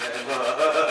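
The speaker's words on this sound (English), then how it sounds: "Just sanding off there at the end" Sandpaper rubs steadily across the cut end of a teak side piece for a boat's saloon table, a close, continuous raspy scratching that swells slightly in two strokes over one second, with no voices.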